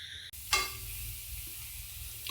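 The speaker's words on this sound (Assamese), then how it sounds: "লগতে ভোট জলকীয়া কেইটাও ভাজি লৈছোঁ।" Spices and bhut jolokia chillies fry in oil for a broiler chicken pickle, giving a steady, soft sizzle with a brief stir partway through and no voices.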